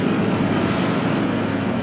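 Steady droning roar of B-17 bomber engines from the War in the Pacific strategy game, a continuous low rumble holding constant level throughout, with no voices over it.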